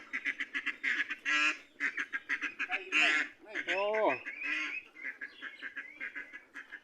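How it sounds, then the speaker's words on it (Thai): A flock of laying ducks quacking loudly and continuously up close, rapid overlapping calls with a few harsher honks mixed in. "อันนี้เป็นเป็ดไข่เป็นเป็ดไข่"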